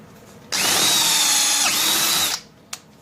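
A cordless drill whirs loudly and steadily for about two seconds, dips briefly in pitch, then winds down, followed by a small click.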